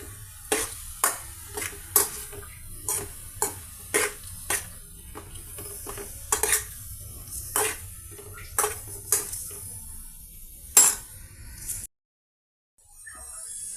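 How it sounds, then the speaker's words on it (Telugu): Ridge gourd pieces fry in a pan with turmeric and salt over a medium flame, as a spatula clinks and scrapes in regular strokes over a low background hiss before the sound stops abruptly. "చూస్తున్నారు కదండి, మన బీరకాయ ఏ విధంగా ఫ్రై అవుతుందండి"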